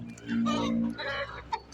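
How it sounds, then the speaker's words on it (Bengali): Native chickens clucking nearby on a jungle farm in Malaysia, a steady stream of overlapping calls with one sharper squawk near the end. "মুরগির একটি কামারে মুরগি কেনার জন্য আসছি"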